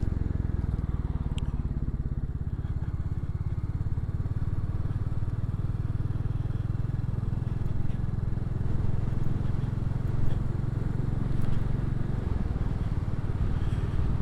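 A Royal Enfield Classic 350 engine runs steadily throughout a ride, a low, continuous single-cylinder thrum with road and wind noise layered over it, close and loud the whole time.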